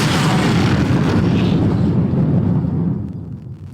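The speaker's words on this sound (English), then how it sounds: "The Kestrel just took a missile hit." A missile strikes the Kestrel ship in the Ace Combat 5 video game, producing a loud, sustained rumbling explosion with heavy low-end roar that slowly fades, followed by a faint crackle at the end.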